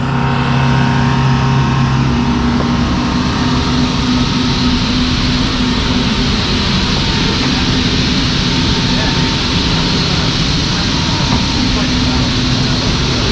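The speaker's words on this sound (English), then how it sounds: "It's kind of loud because the generator's on because they are loading it right now" A generator runs steadily beside a large C130 military cargo plane being loaded, a loud, continuous engine drone with an airy hum that holds level throughout.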